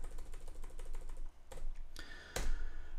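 A computer keyboard is typed on at a quick pace, light clicks running together, then a couple of louder clacks and a sharp hit near the end, set against a steady low hum with no voices.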